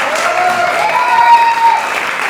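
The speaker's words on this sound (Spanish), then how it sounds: "Un fuerte aplauso para todos los compañeros que estuvieron acá" Steady applause from a seated audience at a storytelling contest, a dense, continuous patter of hands at close range that holds evenly throughout, with no voices breaking through.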